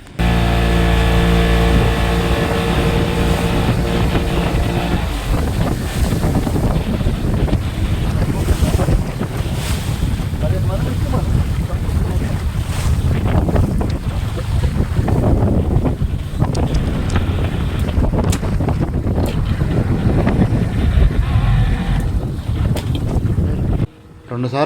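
A small boat's motor drones at sea off Vizag during parasailing, with heavy wind buffeting the microphone and waves slapping around the hull throughout.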